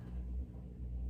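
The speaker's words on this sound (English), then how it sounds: "washing machine in the background." Washing machine running in the background, a faint low steady rumble with slight swells, continuous for about a second.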